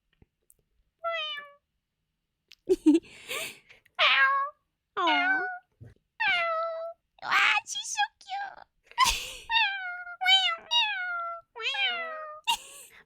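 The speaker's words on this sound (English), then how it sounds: "we got a meow" Repeated cat meows from the video game Paranormasight, a series of short, plaintive, wailing calls arriving one after another, with a person's voice talking briefly among them.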